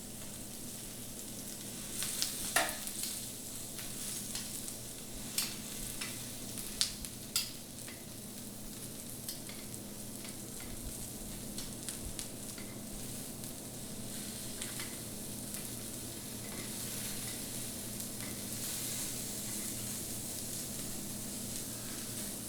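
Food sears steadily on a heated Himalayan salt brick, giving a continuous close sizzle with occasional sharper crackles and pops throughout, no voices.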